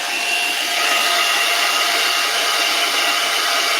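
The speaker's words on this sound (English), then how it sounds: "So only ever use a hairdryer on a cool setting" A hair dryer on a cool setting blows with a loud, steady whoosh that holds evenly from start to finish.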